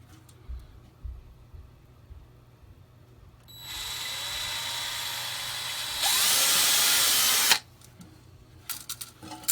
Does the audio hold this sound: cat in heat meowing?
no